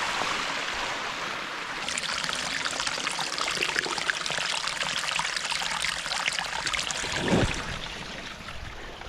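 Mountain stream water trickling and pouring steadily as a bottle is filled outdoors on a cold wild-camping trip, a continuous close bubbling wash with no voices.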